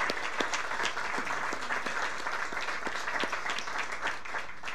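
An audience applauding speakers at a church community gathering, steady dense clapping from a crowd filling the room without pause.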